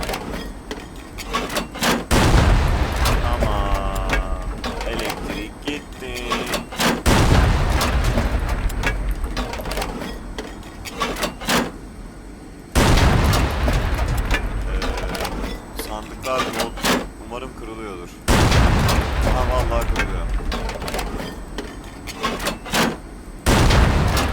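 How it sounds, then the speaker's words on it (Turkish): Heavy tank cannon blasts in the survival game Unturned, several loud booming shots spaced several seconds apart, each with a rumbling tail, while someone talks over the action. "Ben tank mermisi bitene kadar sıkacağım."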